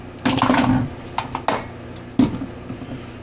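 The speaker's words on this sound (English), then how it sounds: "My spray bottle just fell over." A plastic spray bottle tips over and clatters, a few hollow knocks and rattles followed by a final sharp clack.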